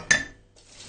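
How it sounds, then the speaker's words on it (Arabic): Drinking glasses being washed at a kitchen sink: one sharp, bright clink of glass near the start, followed by quieter handling and soft rubbing sounds close by. "انا هنا هبتدي كده اغسل الكوبايات الاول"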